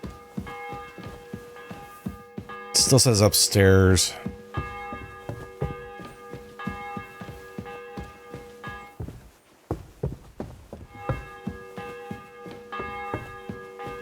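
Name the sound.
church bell ringing in video game Kingdom Come Deliverance 2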